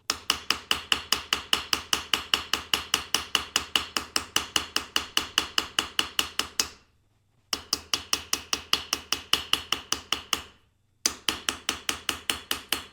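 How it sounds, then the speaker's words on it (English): Rapid, steady metallic ball peen hammer taps texturing a copper bracelet ring out in long runs, pausing briefly twice before resuming at the same brisk rhythm. "for this texture, I just use that ball peen hammer."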